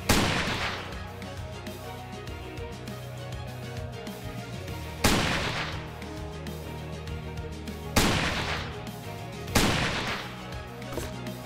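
Heavy sniper shots in the video game StarWard, four loud booming blasts spaced a few seconds apart, each followed by a long rumbling tail over dense game music and ambience.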